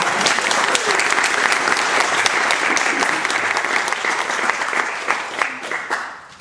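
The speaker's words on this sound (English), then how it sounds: "please give him a round. Of applause." Audience applause greeting a performer being introduced at a live event, a dense, steady wash of many clapping hands held at a loud level and tapering off toward the end.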